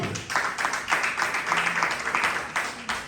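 A church congregation applauding during a sermon, rhythmic clapping with a loose beat that stays steady and fairly close for three seconds.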